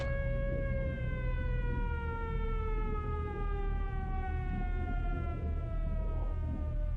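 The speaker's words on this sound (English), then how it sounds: "There's the siren." Siren in the video game Blood: Death Wish, a steady wailing tone with several stacked harmonics slowly falling in pitch, loud and continuous throughout with a low rumbling background and no talk.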